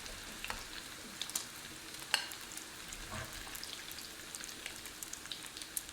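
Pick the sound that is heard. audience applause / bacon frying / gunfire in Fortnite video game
bacon frying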